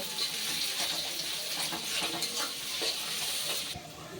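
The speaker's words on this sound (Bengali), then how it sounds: "এবার পেঁয়াজটা কিন্তু এই ফোড়নের সাথে একটু লাল করে ভেজে নেব" Chopped onions fry with whole spices in hot oil for a Bengali chicken curry, giving a steady, close sizzle with light stirring scrapes throughout and no talk.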